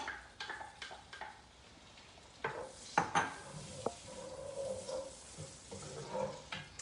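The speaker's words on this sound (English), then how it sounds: "we're gonna fry in a little bit of our onions and green onions" Quiet frying sizzle of onions and green onions in a pan, broken by scattered clinks and scrapes of a utensil stirring against the pan.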